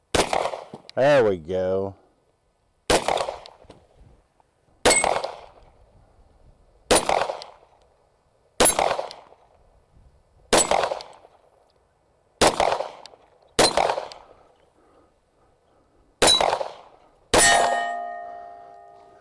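Ten sharp shots from a 10mm Springfield Armory XD-M OSP pistol striking a steel target outdoors, each crack followed by a ringing clang, spaced about two seconds apart; someone speaks briefly near the start.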